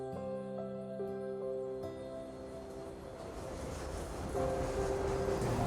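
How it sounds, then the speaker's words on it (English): A train rumbles steadily along in the video game Tsukihime, a continuous low mechanical drone with sustained tonal hum that swells slightly louder near the end, with no voices. "The train rumbles on, providing a panoramic view of the city."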